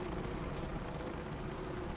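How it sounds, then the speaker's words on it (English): A K-Sec helicopter in the video game Mirror's Edge Catalyst makes a quiet, steady rotor drone with no talk over it. "this is the K-Sec chopper"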